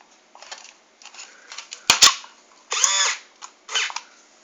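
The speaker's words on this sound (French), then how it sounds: "C'est le bruit du servomoteur" Short bursts of high mechanical whirring from a small servo motor in an Iron Man model, moving in quick jerks, with a couple of sharp clicks between the whines.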